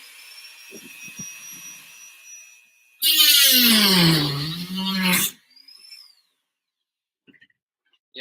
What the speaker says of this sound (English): do not use the Dremel the way I'm using it right now